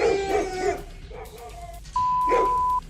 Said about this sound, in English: neighborhood dogs frighten the bears